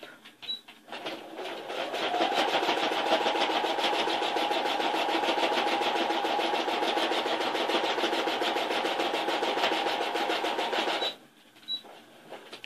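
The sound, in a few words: sewing machine stitching a small bag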